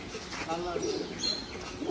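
Pet pigeons coo softly in a loft, low throaty calls mixed with faint chirps and background murmur of people talking nearby.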